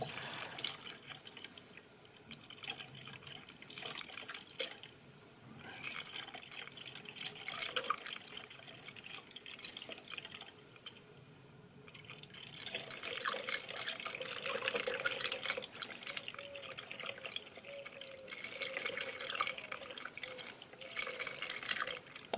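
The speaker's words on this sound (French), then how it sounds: "Ah, c'est bon, ça coule bien." Coolant draining from a Renault Twingo into a container, a steady splashing, trickling stream heard close up that runs continuously and swells toward the end.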